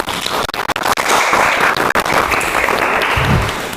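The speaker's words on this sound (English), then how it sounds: "Give applause to them." A classroom audience gives sustained applause for a student group called to the front, dense clapping carrying steadily for several seconds with a brief low thump near the end.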